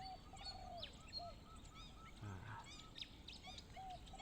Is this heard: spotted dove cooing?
yes